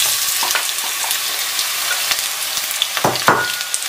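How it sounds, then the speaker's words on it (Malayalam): Onion sautéing in hot oil for an egg masala, a steady broadband sizzle with intermittent sharper crackles and stirring scrapes, close and fairly loud throughout. "ഇനിയിപ്പോൾ നമുക്കിതിലേക്ക് സബോള ഇട്ട് വഴറ്റിയെടുക്കാം"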